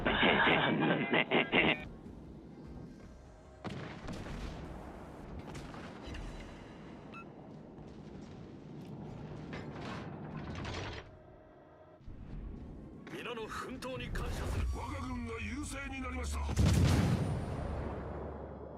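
Artillery shells fire in a video game, with booming shots and rumbling impacts spread through the clip, plus radio-like chatter and game effects, and voices heard at times.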